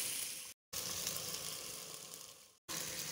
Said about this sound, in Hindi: और इसको अच्छी तरह से भून लेंगे, 3 से 4 मिनट इसको ऐसे ही भूनेंगे